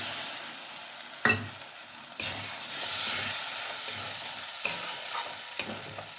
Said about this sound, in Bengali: আমি এবারে কর্নফ্লাওয়ারটা গুলে নেব